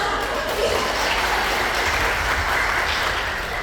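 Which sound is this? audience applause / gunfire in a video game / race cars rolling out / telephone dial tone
audience applause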